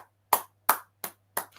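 Four sharp, separate claps spaced about a third of a second apart, loud and close, with no voices over them, from a small audience applauding a doctor after her presentation.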